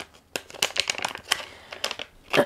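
A few sharp plastic pops and crinkly clicks of packaging, close and fairly quiet, scattered irregularly over a couple of seconds.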